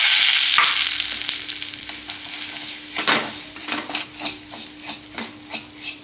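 Semolina (rava) being roasted and stirred in a pan for a home-cooked lunch, a loud dry sizzling hiss that fades, then rhythmic scraping strokes of a spoon against the pan, with no voices.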